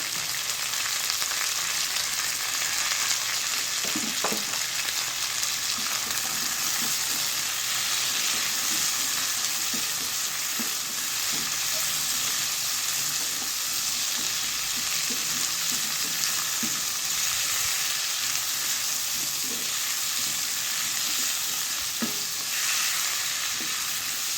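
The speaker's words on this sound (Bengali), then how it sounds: "তিন চারটা আলু নতুন আলু নিয়েছি সেটাকে একটু ভেজে নেবো" New potatoes fry with onion in a pan, a steady, close hiss of oil sizzling throughout, punctuated by intermittent scraping and clinking from a stirring utensil.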